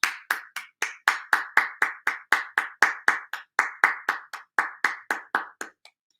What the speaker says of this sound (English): Clap it up for Nicki Minaj.